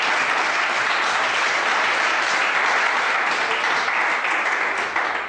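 Applause by acclamation fills a hall at a handball league president election in Ogooué-Ivindo, a dense, steady crowd clapping loudly and evenly throughout without a break.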